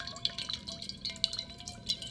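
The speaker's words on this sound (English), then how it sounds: "And it's splashing all over the place, as you can see." Liquid dribbles and splashes from a Zojirushi SM-KHE48 stainless steel mug, with faint, quick irregular drips and small splashes close by, with no talking.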